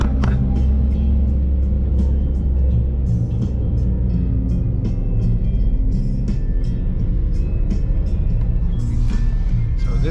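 A fairly new bus pulling into the ADO bus station, its engine giving a loud, steady low rumble throughout, with faint clicks and rattles above it.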